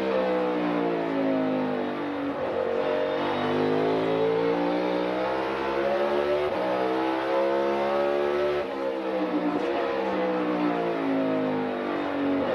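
A NASCAR race car engine howls through a qualifying lap at the 2024 Cook Out 400, loud and continuous with rising and falling pitch as it revs and shifts, no voices over it.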